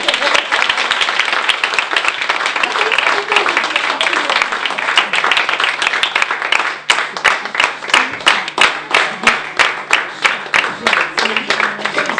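Audience applause in a hall, sustained loud clapping from a crowd that later breaks into rhythmic, evenly spaced unison claps.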